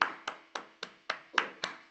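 Slow, evenly spaced claps at a class session ring out one after another, about seven sharp hand strikes in under two seconds, close and fairly quiet.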